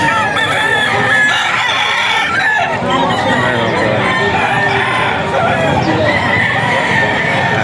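Gamecocks, including a bull stag, crow and cluck at a busy poultry auction market in Bocaue, with loud, overlapping bird calls and crowd noise running throughout and people talking among them.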